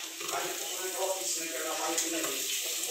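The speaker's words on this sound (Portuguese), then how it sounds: "Vou colocar agora lá para fritar." Chopped cheese, ham and calabresa sausage frying in a pan, making a steady hissing sizzle with faint voices in the background.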